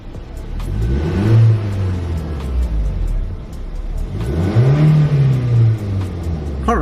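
A Toyota Yaris SR with a manual gearbox starts and revs twice, each rise and fall of engine pitch clear and close, with no talk over it.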